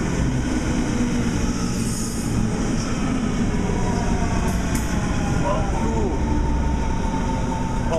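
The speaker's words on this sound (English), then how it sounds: "Our train's here." A train pulls into a station, loud continuous rumbling with metallic wheel squeals, heard close and alone throughout.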